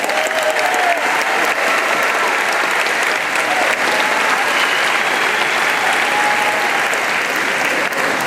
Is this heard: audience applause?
yes